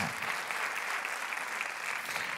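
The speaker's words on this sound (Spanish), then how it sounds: "Si lo crees, dale un aplauso al Señor" A church congregation applauds during a sermon, a steady, fairly distant wash of clapping that holds evenly throughout with no voice over it.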